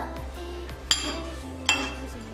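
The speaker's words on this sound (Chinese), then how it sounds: "我们要在碗上面扣个盘子" A plate is set down over a bowl of garlic water for steaming, making two sharp ceramic clinks about a second apart over a low background hum.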